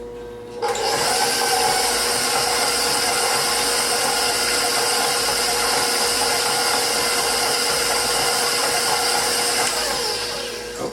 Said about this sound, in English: now we're going to just mix them up a little bit.